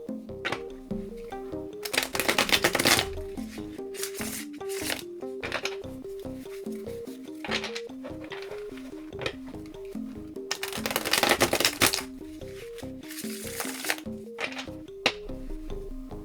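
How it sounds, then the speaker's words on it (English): Cards being riffled and shuffled repeatedly, crisp flapping bursts in quick succession with brief pauses between, close and fairly loud. "Now I will shuffle 10 cards."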